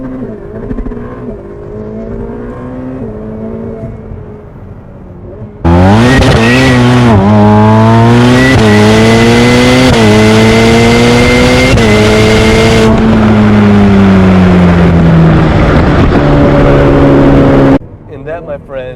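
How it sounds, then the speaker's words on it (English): A Ferrari F8 launches hard, tires spinning before the engine howls up through rising revs and gear changes, loud and close, then cuts off abruptly near the end; no talking over the run. "So she'll light the tires up, but watch how fast this thing gets hauling ass."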